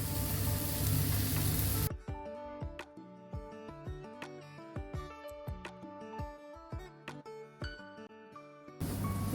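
Ginger, garlic, onion, green chilli and capsicum masala sizzling as it is sautéed in a pan for a paneer dish, a close crackling fry broken by frequent sharp clicks and taps of stirring after an opening burst of loud noise.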